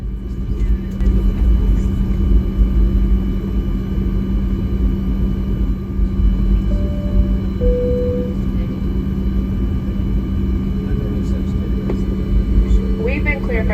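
Southwest Boeing 737 MAX 8 airliner on departure, its engines giving a steady loud cabin roar and rumble throughout, with a faint brief tone and chime-like sounds over the drone.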